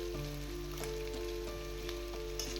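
Chicken being stirred and fried in a pan over a low flame for an Assamese village-style dry fry, giving a steady, close sizzle with soft periodic scraping knocks from stirring.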